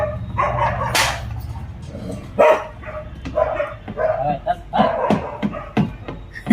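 A newly brought-home dog barks in short, sharp bursts and yips scattered through the scene, with people talking loudly around and over it.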